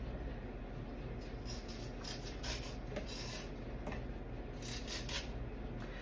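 A knife blade turned backward scrapes along a corn cob to milk the kernels for homemade creamed corn, giving a soft, steady, rasping scrape that repeats in short strokes close up.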